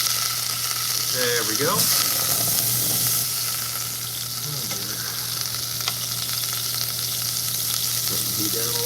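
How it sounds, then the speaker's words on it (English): Butter sizzling in a pan for a mortadella sandwich, a steady broadband frying hiss running throughout, with someone speaking briefly over it. "First, we're going to start with tablespoon of butter. Here we go. Put that in the pan."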